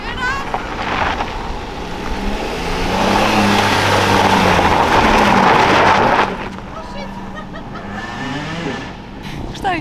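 A manual car revs hard during a driving lesson, the engine climbing and holding before dropping off, with tyre and wind noise, close and loud, as people talk and shout around it.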